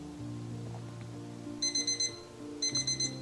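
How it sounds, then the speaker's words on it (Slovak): An alarm clock rings in two short bursts of rapid bright electronic beeps, four pulses each, over a low steady hum in the background. "Ráno mi zazvonil budík"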